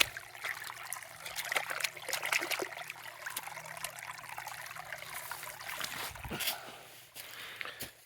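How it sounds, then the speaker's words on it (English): Water trickles and splashes steadily outdoors as a hand is rinsed off under running water, a close, continuous patter with brief louder splashes. "Let's see if I can wash my hand off here."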